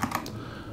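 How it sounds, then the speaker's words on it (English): Someone types a web address on a computer keyboard. A few quick, light keystrokes click up close at the start, then fade into softer tapping. "I'm going to type in"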